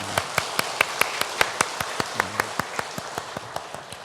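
A church congregation claps for the choir at a Sunday worship service: crisp, evenly spaced claps in a steady unison rhythm, with a softer, scattered patter of hands underneath.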